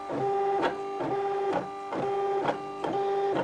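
A Silhouette Portrait cutting machine slicing a page, a buzzing motorized whine in short repeated strokes about every half second, close and steady with no talking.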